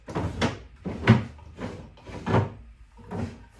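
Wooden cupboard doors on an antique dressing table opened and handled, five soft knocks and creaks spaced about every half second to second, close and fairly quiet.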